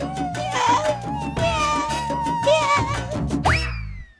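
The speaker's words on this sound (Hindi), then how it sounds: "लेकिन अभी तो बिल्ली को यहाँ से भगाओ" A cat meows repeatedly inside a godown, several drawn-out, wavering cries in close succession, fairly loud and close, ending with a rising final meow.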